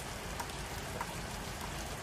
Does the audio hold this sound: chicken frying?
no